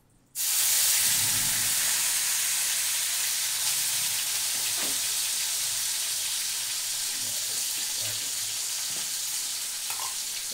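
Raw prawns in a pan with a paste of yogurt, ginger, garlic, onion and green chilli, a loud hissing sizzle that starts abruptly and holds steady throughout, with faint stirring clicks.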